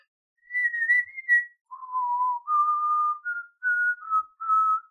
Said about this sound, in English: Can't even whistle properly.